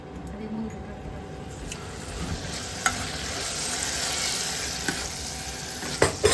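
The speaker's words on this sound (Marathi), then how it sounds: "आता याच्यामध्ये 1 टेबलस्पून मोहरी टाकायची आहे." Mustard seeds sizzle in hot oil while dal is cooked, giving a steady, close frying hiss with a few small pops and stirring clinks, faint talk now and then beneath it.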